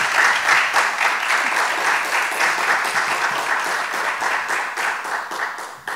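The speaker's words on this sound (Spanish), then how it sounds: "Un aplauso para nuestros..." An audience claps in sustained, dense applause that holds steady for about six seconds, many hands together at moderate distance.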